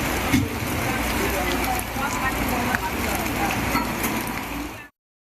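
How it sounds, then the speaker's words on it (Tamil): Heavy rain falls in Madurai, a dense, steady hiss of downpour on surfaces that stays loud and continuous for several seconds before cutting off abruptly. "பகுதிகளில் பரவலாக கனமழை பெய்தது"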